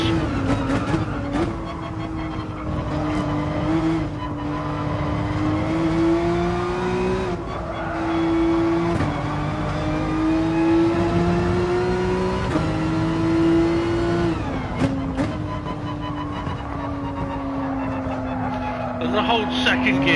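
Race car engine in GT Sport at Spa, revving loud and close with rising pitch sweeps broken by gear shifts, continuous throughout while someone talks over it.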